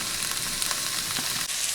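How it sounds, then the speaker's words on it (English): Sausage browns in a pot for gumbo, giving a steady, dense, close sizzle and crackle that holds without a break. "brown the sausage"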